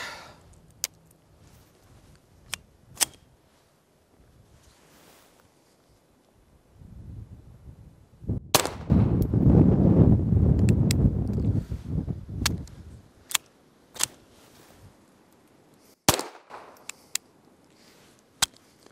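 A brand-new FN 502 Tactical .22 LR pistol, still full of grease and having some trouble, fires several sharp, loud cracks at irregular intervals, with a longer rumbling burst of handling or wind noise in the middle.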